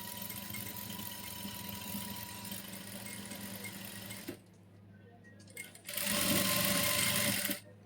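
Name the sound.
sewing machine stitching lace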